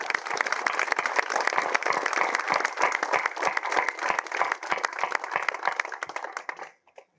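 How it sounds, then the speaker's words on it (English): Applause from an audience honouring the land workers at a talk on olive tree pruning and olive oil quality, a dense, steady clapping that holds for about seven seconds before cutting off. "So I think we should give them a big applause."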